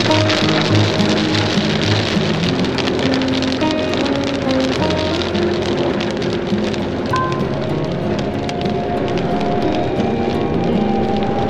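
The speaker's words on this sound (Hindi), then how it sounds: "तेज बारिश हो रही है जी" Heavy rain falls steadily at night during a road trip from Ujjain to Delhi, a dense continuous hiss with a faint murmur of voices and some tonal hum underneath, loud and close throughout.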